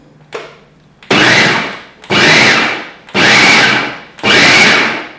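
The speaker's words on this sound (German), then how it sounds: "bei dieser Küchenmaschine gibt es so ein Programm, das ist so ein pulsierendes Programm" A kitchen food processor on its pulse program roughly chops red pepper, apple, silken tofu and cashews, running in four loud, even bursts of about a second each, separated by brief pauses.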